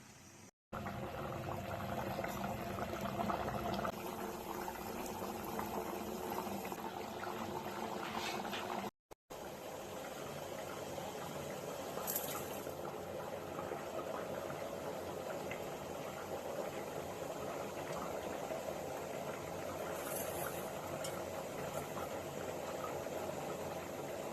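A pot of vegetable curry with cheppa kizhangu boiling steadily on the stove, giving a faint, continuous bubbling simmer with no voices, broken only by a couple of momentary dropouts.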